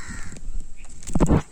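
Crows calling close by, a few harsh caws with the loudest burst near the end, over a busy background of other sounds.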